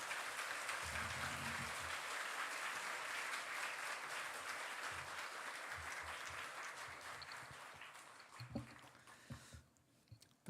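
A congregation at a church worship service applauds in welcome of a speaker, a dense sustained clapping that gradually thins and fades out, leaving a few scattered claps and thumps at the end.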